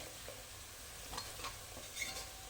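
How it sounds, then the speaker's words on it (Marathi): Onions frying to golden in a pan for Hyderabadi chicken biryani, a soft continuous sizzle with a few faint stirring scrapes, quiet and close. "चांगला सोनेरी रंगाचा होईपर्यंत भाजून घेऊन आपला कांदा आता भाजत आलेला आहे."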